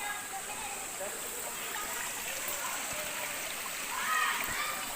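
Constant rushing of falling water from Talon-Talonan Falls on Mount Makiling, close by, with faint splashes and distant children's voices mixed in.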